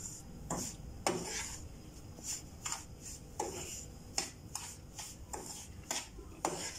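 Semolina (rava) being dry-roasted in a pan for rava kesari, a utensil scraping and stirring the grains in a steady series of close, light clinks and rubs with no voices.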